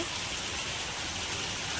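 Steady rain falls on surfaces, a dense, even hiss of countless drops that stays constant throughout, with no voices.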